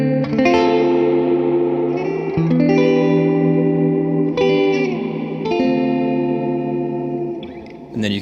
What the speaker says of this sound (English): You get this nice clean kind of sound, but very warbly.